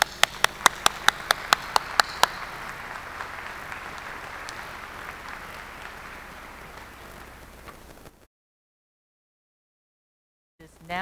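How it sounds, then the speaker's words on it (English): Applause at the Washburn University School of Law commencement for the classes of 2020 and 2021: a few sharp single claps at first, then a dense wash of clapping that fades, followed by silence. "I hope that all of you mentioned will applaud each other and also accept all of our applause"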